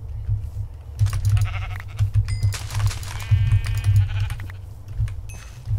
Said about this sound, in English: There's more sheep over here, and cows and stuff.